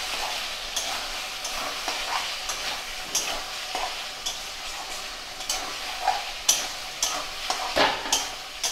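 Chicken frying in a pan while being stirred, a constant sizzle broken by repeated clacks and scrapes of the spoon that come faster and louder toward the end.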